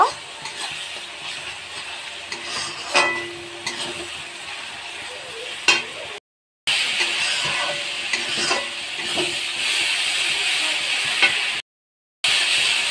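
Spice paste of chili powder and salt fries and is stirred in a pan, a steady sizzle broken by scraping spatula strokes, with two brief silent gaps.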